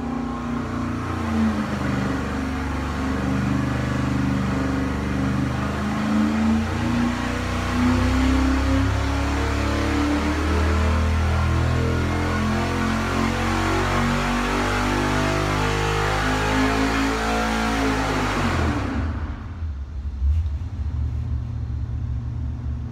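A junkyard LS V8 engine with its spark plugs indexed toward the intake runs loud and close, revving up and down in sustained roars for about 19 seconds before cutting off abruptly into near silence.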